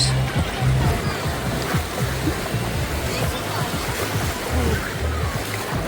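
Small sea waves wash onto the shore at Odesa, a close, steady surf rush, while people talk over it.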